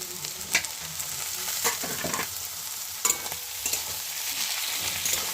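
Cabbage and mixed vegetables frying in a pan for veg tadka, a steady sizzle broken by several scraping stirs with a spatula, close and alone with no voices.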